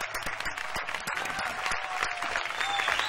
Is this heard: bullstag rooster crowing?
no